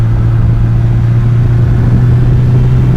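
Deep, throbbing rumble of an MV Agusta Brutale 1090RR's long-stroke V-twin revving, loud and close with a steady low growl.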